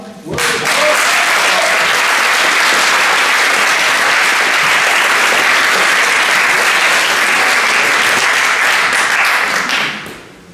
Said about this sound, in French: un petit round d'applaudissements supplémentaires, s'il vous plaît